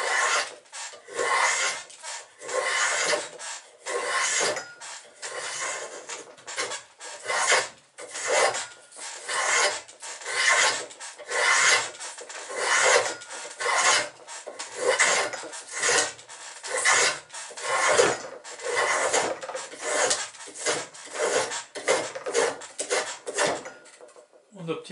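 A hand tool draws repeatedly across a wooden workpiece clamped to a workbench, shaving off very thin strips. The strokes are rhythmic, rasping and close, with short pauses between pulls, and they continue throughout.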